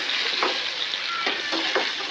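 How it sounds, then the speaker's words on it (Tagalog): Vegetables frying in a pan for kaldereta, a constant loud sizzle with a few soft stirring scrapes, no voices. "Prito muna natin para lumambot."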